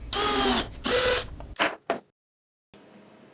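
Brass threaded inserts are driven into an MDF tabletop with an alignment jig, giving two sustained grinding, ratcheting runs followed by a couple of short creaky turns, then silence and a faint low hum.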